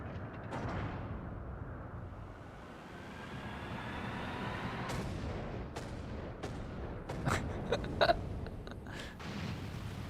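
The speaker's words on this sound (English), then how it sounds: "that's quite the cannon." A long-range artillery cannon fires in Final Fantasy XIV, sending several sharp, distant booms across the stretch over a low, rumbling game ambience.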